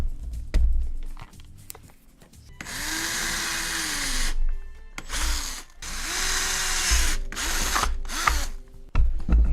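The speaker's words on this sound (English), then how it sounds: "I'm trying to find my drill bits, drill head, drill." A power drill whirs in several bursts, its motor pitch rising and falling, with clicking and ratcheting sounds between runs.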